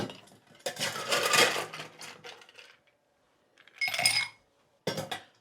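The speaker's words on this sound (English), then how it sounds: "We're going to put some ice in that glass." Ice cubes clatter into a glass in bright, clinking bursts: a long rattling tumble, a pause, then two shorter clusters of knocks against the glass, close and clear.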